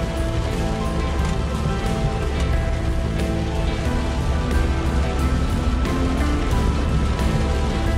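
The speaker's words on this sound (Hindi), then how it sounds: "बारिश भी भाई बहुत तेज हो गई आज।" Heavy rain pours steadily and loudly on the road to Shimla, a dense continuous patter close by with no voices.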